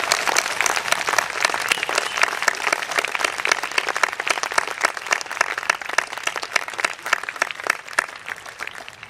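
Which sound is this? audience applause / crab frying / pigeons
audience applause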